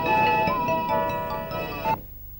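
A phone ringtone plays a loud, bright repeating melody for about two seconds, then cuts off abruptly, leaving quiet room tone.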